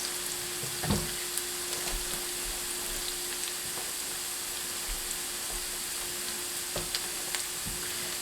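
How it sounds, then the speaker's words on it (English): Vegetables, green beans held back, browning in a hot pan for braised chicken with mushroom, giving a steady, soft sizzle throughout with a few faint clinks and stirring knocks, no voices. "I'm going to brown up the vegetables, except for the green beans"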